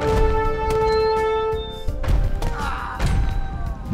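Cannons in Age of Empires II firing and striking, giving several heavy thuds and crashes over a steady game backdrop with sustained musical tones, with no talk.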